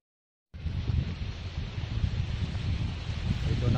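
Strong wind blows across an open hilltop, a loud continuous buffeting rush that starts abruptly and roars steadily against the microphone.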